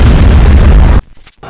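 A bomb blasting in a video game, one loud booming burst that fills the first second and then cuts off abruptly into near silence.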